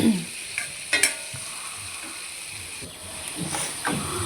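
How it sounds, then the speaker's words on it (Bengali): Pointed gourd and potato sauté in a pan, a steady close sizzle punctuated by several scraping stirs and utensil knocks, with no one speaking. "পটল আলুটাকে ভালোভাবে কষিয়ে নিচ্ছি।"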